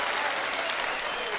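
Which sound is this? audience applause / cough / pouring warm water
audience applause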